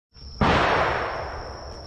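A single sharp gunshot-like bang rings out at the Cu Chi Tunnels in Vietnam, followed by a long fading outdoor echo, moderately distant, with a steady high insect-like whine in the background and no voices.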